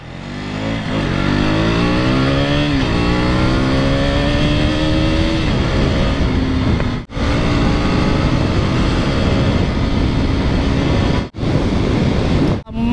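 A 200-segment motorcycle accelerating hard along a highway, the engine note climbing through rising revs loud and close, with short drops between gear shifts and strong wind rush throughout.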